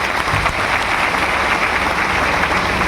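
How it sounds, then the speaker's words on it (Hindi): Loud, dense audience applause fills a DXN freedom day meeting hall, sustained and steady throughout with no voices rising above the clapping. "जोरदार ताली आप सभी के लिए।"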